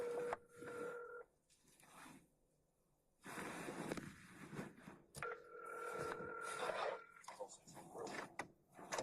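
A telephone call is placed, with steady electronic dialing and ringing tones sounding in two stretches while people talk nearby and the room murmurs in between.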